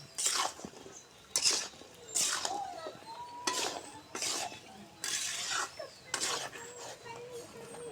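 A spatula scrapes and stirs a fish curry of taro, pointed gourd and potato with chili powder in a pan, making repeated short broadband scraping bursts at an uneven rhythm, fairly close and moderately loud.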